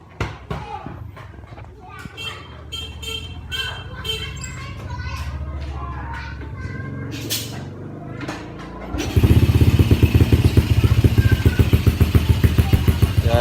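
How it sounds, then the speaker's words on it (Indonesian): A motorcycle with its stock factory exhaust starts up after a stretch of background activity and settles into a loud, steady idle with a rapid pulsing beat, close to the listener. "ini knalpot standar tapi suara bisa diadu bosku"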